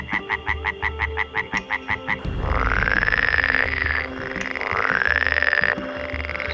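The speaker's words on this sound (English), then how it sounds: "They don't just croak, some can even be mistaken for motorcycles." Frogs croaking, loud and close: a rapid run of about a dozen short pulsed calls, then a steady droning chorus broken by rising, sweeping whistle-like notes that repeat twice.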